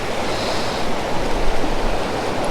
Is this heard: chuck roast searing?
no